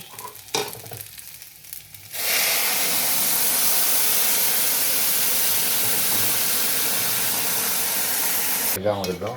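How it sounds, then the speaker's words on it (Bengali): Water poured into a pan of fried rice for Bengali basanti pulao hits the hot grains with a sudden loud, steady hiss and sizzle that holds for several seconds after some kitchen clatter. "এবার আমি জলটা দিয়ে দেবো"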